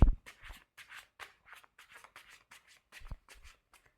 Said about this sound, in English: I love how easily this deck shuffles